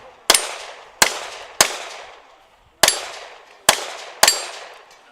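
Pistol shots ring off steel targets at a shooting competition: six sharp cracks at an uneven pace, each followed by a short metallic ring that fades before the next.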